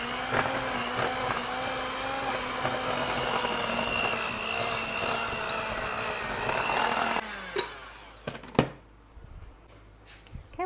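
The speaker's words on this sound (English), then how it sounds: "Okay, now we're going to mix this up with our mixer." An electric mixer whirs steadily and loudly while beating muffin batter with sour cream, then cuts off near the end, leaving a few clanks and light handling sounds; no one speaks.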